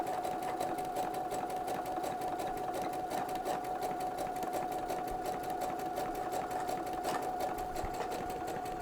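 A sewing machine fitted with a fringe or looper foot runs a very short stitch length, giving a steady, even mechanical whir with a fast regular needle beat, close and continuous with no talk.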